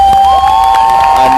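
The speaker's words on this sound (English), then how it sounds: "are getting a very big cheer" A crowd cheers loudly and continuously for sledge hockey players during the second intermission of a game, with a steady roar and a few shouts rising above it.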